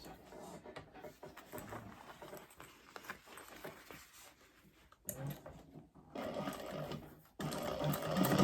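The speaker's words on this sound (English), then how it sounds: "Now we're just going to sew all the way around the pocket." A sewing machine stitches around a fabric pocket, its needle whirring in steady close bursts that pause and restart, quiet at first and louder toward the end.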